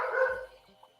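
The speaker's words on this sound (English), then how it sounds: "I guess that's her other dog barking." A dog barks once from a video playing in the background, a short, fairly faint yelping bark that quickly fades.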